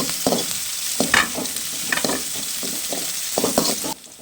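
Food sizzles in a warped pan while a utensil scrapes and knocks against it in repeated strokes, stopping abruptly at the end.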